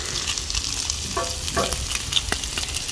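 Bacon sizzles and fries in a pan at a camping breakfast, a steady crackling hiss with small pops and a few scraping stir sounds, close up and without talk.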